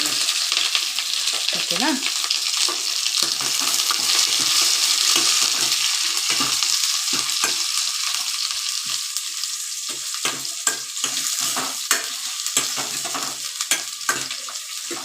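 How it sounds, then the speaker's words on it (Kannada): Green chillies and onion frying together in a pan, a loud bright sizzle that settles into crackling with stirring scrapes and a short spoken word. "ಹಸಿಮೆಣಸಿನ್ಕಾಯಿ ಮತ್ತು ಈರುಳ್ಳಿ ಇವೆರಡನ್ನು ಒಟ್ಟಿಗೆ ಹಾಕ್ತಾಯಿದ್ದೀನಿ"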